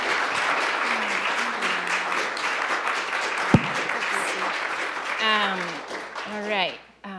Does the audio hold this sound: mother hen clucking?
no